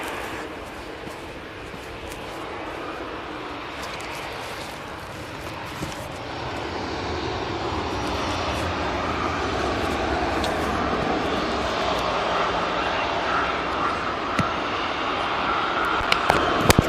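An Easyjet airliner's engines at Manchester Airport give a broad, moderate roar that builds gradually and holds steady, heard from some distance, with a few faint clicks near the end.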